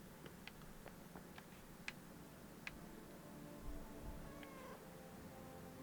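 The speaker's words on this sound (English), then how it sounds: "Oh yeah, we have another cat now." A cat meows several times indoors, short high calls spread across the stretch and fairly faint over a steady low background hum.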